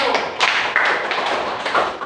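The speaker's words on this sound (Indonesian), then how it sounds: "Tepuk tangan untuk kelompok" Classroom applause for a student group, a burst of many hands clapping in quick irregular taps with a few louder thuds, fairly close and steady for about two seconds, with faint voices mixed in.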